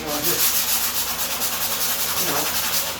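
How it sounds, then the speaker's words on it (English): A sandpaper block rubs back and forth over a wooden board set on a sawhorse, making a steady, rhythmic scratching close by with no talking. "Got a little block on there, it's got sandpaper. I've already sanded some of it, but I just want to show you."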